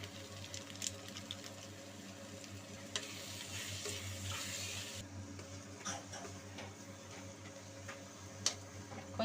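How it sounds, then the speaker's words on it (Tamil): Goat brain with curry masala fries in oil in a pan, giving a faint steady sizzle with scattered ticks and crackles and occasional stirring scrapes, close by and with no talk. "இதுக்கு வந்து தண்ணிலாம் ஊற்ற வேண்டாம், இந்த எண்ணெயிலேயே கொஞ்சம் ஃப்ரை பண்ணி எடுத்துக்கலாம்."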